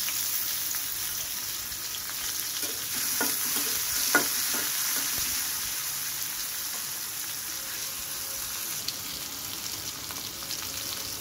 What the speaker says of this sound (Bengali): ওই তেলের মধ্যেই এখন সম্বরা ফোড়ন দিয়ে নিলাম, পেঁয়াজ মরিচগুলো ভালো করে ভেজে নেব।